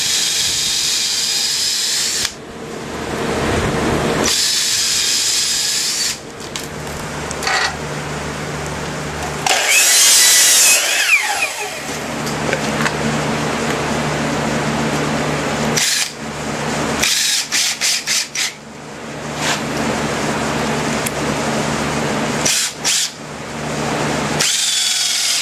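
Power drill driving 3.5-inch screws into 2x4 lumber while building a wooden chicken tractor, with several loud whirring bursts of varying length separated by short pauses.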